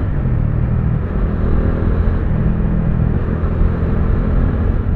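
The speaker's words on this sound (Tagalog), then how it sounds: "Yun na, traffic na." Steady low road-traffic rumble heard from aboard a Bajaj Dominar 400 motorcycle on a ride to work, engine and wind droning continuously at close range with no talk.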